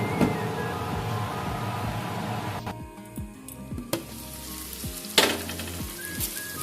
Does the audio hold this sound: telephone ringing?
no